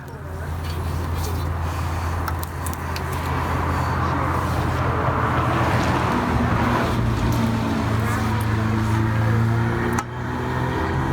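A Cummins diesel engine on a rebuild stand is cranked over by hand with its connecting rods and oil pan freshly installed, a steady low mechanical churning and whirring that runs throughout, with some background hum.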